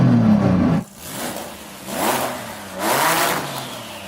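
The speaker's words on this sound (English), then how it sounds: "And now Saeed is going to rev up that monster." A 3000-horsepower Nissan Patrol drag car revving hard, a loud engine roar that cuts off sharply, followed by two more surging revs rising and falling, heard close.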